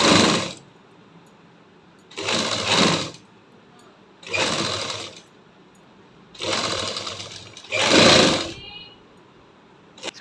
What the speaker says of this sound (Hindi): अब हम कपड़े को मोड़ के किनारे की सिलाई देते जाएंगे इस तरह से।